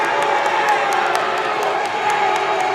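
A gym crowd at a varsity boys high school basketball game between Amityville and Hampton Bays roars and cheers loudly and continuously, with shouts and whoops rising through the din.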